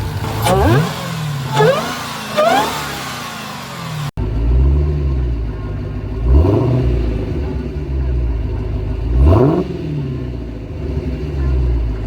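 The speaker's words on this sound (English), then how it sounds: "I'm going to try and get you guys some baby revs at least." A 2023 Dodge Hellcat Jailbreak engine revs three times in short bursts, each rising and falling over a steady low idle rumble, close by.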